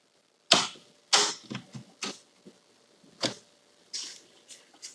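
Acoustical ceiling panels being cut through by hand in a mobile home basement: a series of sharp, crisp snapping and crunching bursts, some loud and some softer, spaced irregularly over a few seconds with no talking.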